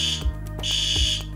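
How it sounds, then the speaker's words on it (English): An industrial plant's emergency alarm sounds loud and close, a harsh electronic tone pulsing in a steady repeating pattern, with no voices. "In the event of an emergency in our plant, the following alarm will be activated."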